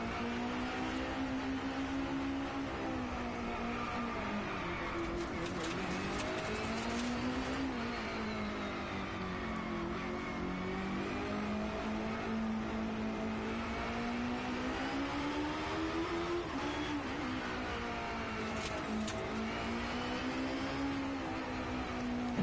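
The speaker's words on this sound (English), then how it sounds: "Oddly enough, the KTM Expo in GTS is a really good rally car." A KTM X-Bow engine droning steadily in Gran Turismo Sport, its pitch rising and falling with throttle through corners, loud and continuous throughout with no talk.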